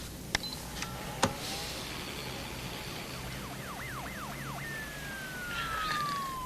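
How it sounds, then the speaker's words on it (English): A police siren wails in rising-and-falling sweeps, then shifts to a long steady descending tone, heard at moderate distance over a low background hum with a couple of sharp clicks. "Police siren. Pretty obvious."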